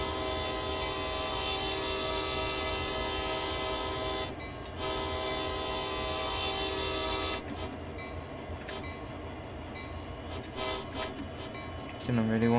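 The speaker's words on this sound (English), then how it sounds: "Didn't really want to horn there" A diesel freight locomotive horn in Train Sim World 2 on Sand Patch Grade sounds sustained and loud over steady engine rumble, with a break near the middle and a fresh blast at the end, while a voice talks over parts of it.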